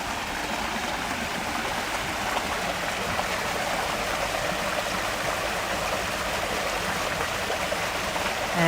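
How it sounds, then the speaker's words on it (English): A small waterfall in a Japanese-style garden tumbles over rocks into a pool feeding a lotus pond, making a continuous, close, steady rushing hiss with no voices. "it takes its name from the movement of water to and fro across the rocks as it tumbles into the pool that feeds the lotus pond"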